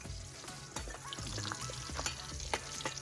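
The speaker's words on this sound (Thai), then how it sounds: "เป็นเวลาเตรียมอาหารเย็นนะครับ ใบกรอกทอดนะครับ" Food sizzles and crackles in hot oil as dinner is fried, a soft bubbling with scattered pops and stirring clatter throughout.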